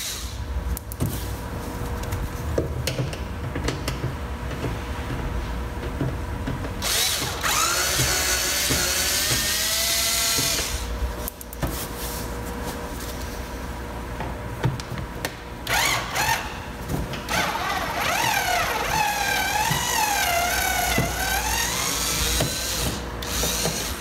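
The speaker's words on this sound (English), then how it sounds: "using a Phillips screwdriver, remove the screws that hold the wheel opening molding on." Phillips screwdriver backing out screws from the wheel opening molding on a second-generation Honda Ridgeline bedside, with whirring tool bursts and mechanical clicks at close range over steady background noise.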